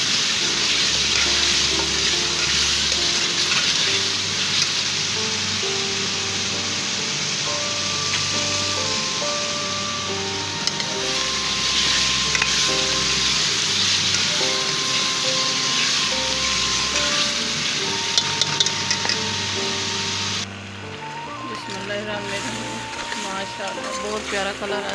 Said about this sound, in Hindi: अब 1/2 kg आलू शामिल कर रही है। मसाले की बुनाई कर दी है मैंने अच्छी तरह।